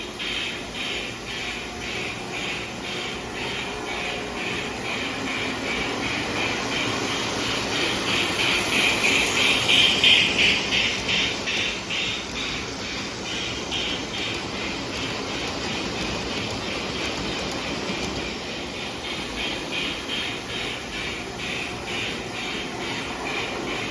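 A model Hudson steam locomotive runs along a layout track with a steady rolling rumble and faint rhythmic clicking, swelling briefly louder mid-run before settling into an even, continuous chug with no voices.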